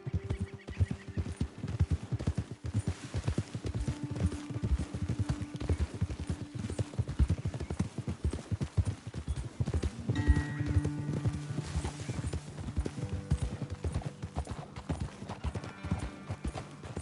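Horse hooves clip-clopping in Red Dead Redemption 2 as riders travel along a trail, a steady continuous patter of multiple hooves with an occasional snort or whinny, fairly close and loud throughout.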